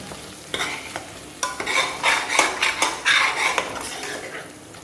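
Tomatoes cook in a pot for mutton gongura while a spoon stirs them, with repeated metallic scrapes and clinks over a low sizzle that swell and fade in an uneven rhythm, close by and with no talking.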